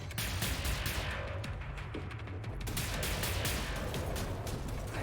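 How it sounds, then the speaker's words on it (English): Rapid gunfire in the first-person shooter Wolfenstein: The New Order, dense continuous bursts of shots punching holes in metal, loud and unbroken throughout. "Shooting holes in the metal like that."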